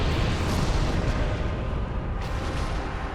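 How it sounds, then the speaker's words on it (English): In the video game Dark Souls, a dense, rumbling explosion roars continuously at loud volume, a broad, sustained blast that fills the whole moment. "Oh, that's the explosion."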